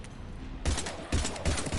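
Rapid bursts of automatic gunfire in the sci-fi shooter Mass Effect 3, heavy chattering volleys repeating in quick succession during a firefight.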